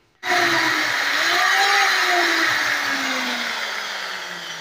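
An electric drill bores a hole into a plastic battery case, a loud steady whir starting abruptly and holding for several seconds, its pitch sagging slightly as the bit bites into the material, with no talking.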